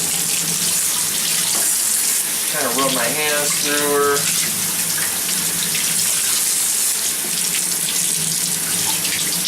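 Tap water runs steadily while soap is rinsed off a snake by hand, a constant close splashing flow with a person speaking briefly over it.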